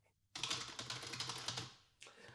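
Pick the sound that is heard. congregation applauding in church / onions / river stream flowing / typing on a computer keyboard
typing on a computer keyboard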